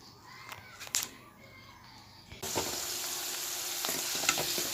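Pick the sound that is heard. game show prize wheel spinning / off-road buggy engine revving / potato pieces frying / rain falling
potato pieces frying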